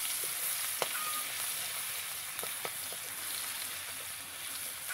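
Onions frying in a pan, a steady close sizzle with occasional faint clicks of a utensil stirring, and no talking.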